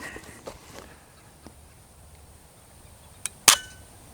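An empty M10X rifle being dry-fired and racked, a few soft handling clicks followed by two sharp metallic snaps near the end, close and otherwise quiet.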